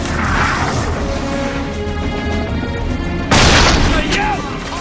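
Gunfire and explosions from the video game Army of Two: The 40th Day form a dense, loud, continuous barrage of booms and crashes, swelling sharply near the end, under a speaking voice.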